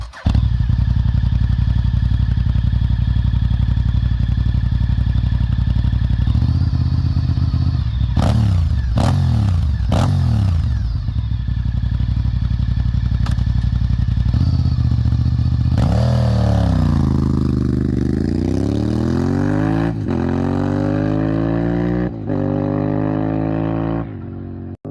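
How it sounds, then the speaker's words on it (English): A Honda 999cc dual overhead cam V-twin superbike engine with fuel injection runs loud and close, idling with a deep pulsing throb, then revving sharply in rising and falling blips before climbing through strong sustained revs. "999cc dual overhead cam V-twin with 2 fuel injectors and 4 valves per cylinder, and was Honda's attempt at a shot for the Superbike World Championship"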